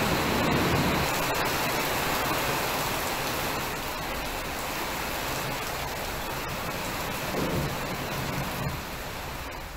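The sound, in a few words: heavy rain with thunder and lightning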